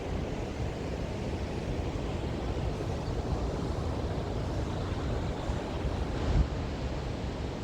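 Ocean waves breaking on a shore on a fine, lightly windy day, a continuous broad wash of surf with a steady roar and a slight swell near the end, no talking.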